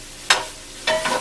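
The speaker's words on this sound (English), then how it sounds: "I'm going to stir this and let this cook for a while until the onions are" Onions for an enchilada casserole being stirred in a pan: two short scraping stir strokes, close and moderately loud, over a faint steady sizzle, with no talking.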